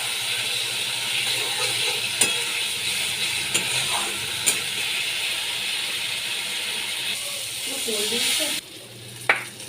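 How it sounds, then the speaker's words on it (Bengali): Potatoes frying in a pan for a fish curry, a soft continuous sizzle with occasional utensil clicks and a voice murmuring underneath, briefly quieter near the end. "আলু দিয়ে আমি ভালো করে কষিয়ে নিচ্ছি"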